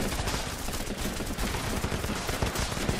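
Continuous machine gun fire in the Running With Rifles video game, a dense unbroken rattle of rapid shots filling the whole stretch, loud and unrelenting.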